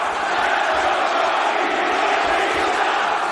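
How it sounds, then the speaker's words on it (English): A dense, steady roar of a live crowd at an AEW wrestling ladder match, loud and continuous with cheering throughout and no break. "Crowd really getting into this thing."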